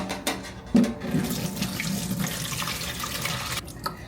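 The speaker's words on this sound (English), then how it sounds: "Low key, I just pour mine into a bowl." Hibiscus (Jamaica) water poured through a tight mesh strainer into a bowl, a steady close splashing flow that runs for about three seconds after a few brief knocks, then stops abruptly.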